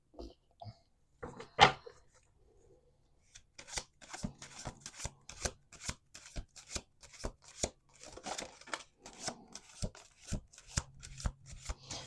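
Tarot cards are shuffled by hand with quick, close riffling and tapping bursts, a few isolated clacks at first, then a steady run of rapid crisp snaps repeating in uneven rhythm.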